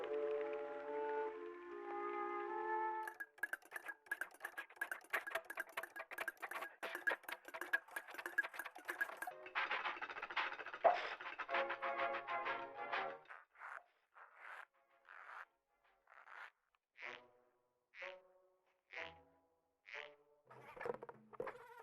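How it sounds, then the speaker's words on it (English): A rattling, pattering clatter of nails and dried peas tumbling inside a slowly turning drum, a rain-sound effect machine, first continuous, then slowing into separate bursts of patter. "by rotating it slowly,"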